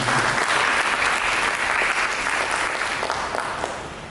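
A church congregation claps together during an Indonesian worship service, a thick burst of applause that starts full and gradually tapers off over about four seconds.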